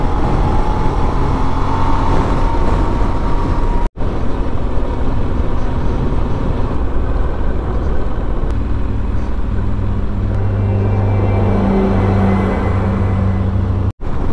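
Fast-moving road traffic in Senegal, with the steady roar of an engine and tyres, likely a bus, rushing along the road, loud and continuous with a brief dropout partway through.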